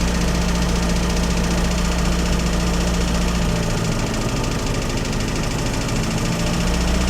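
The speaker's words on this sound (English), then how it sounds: "wait for it to warm through until we can get to a steady idle" A 1956 Standard 8 car engine idles while still warming up, a steady low rumble with faint knocking vibration, close and continuous throughout with no talk.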